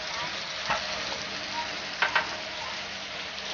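Shrimp frying in a pan give a steady, soft sizzle with a few brief clinks and stirs, close by and without voices.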